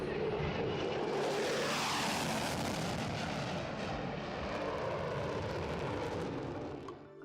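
An F-16 Viper fighter jet roars past, a loud, broad jet-engine rumble with a sweeping pitch shift that holds strongly before easing off at the end.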